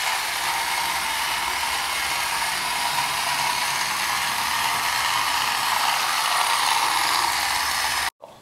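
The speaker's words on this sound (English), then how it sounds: "a ring stand with a string attached to a little cart that has a little motor. And we turn that on, that's going to go around in a circle." A small motorized cart tethered by string to a ring stand runs in a circle, giving a steady close mechanical whir and ratcheting rattle that cuts off abruptly near the end.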